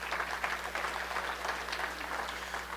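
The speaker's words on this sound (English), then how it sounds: "Give yourselves a big round of applause." An audience claps together in a big round of applause, a sustained and fairly soft patter of many hands over a low steady hum, continuing evenly throughout with no voices on top.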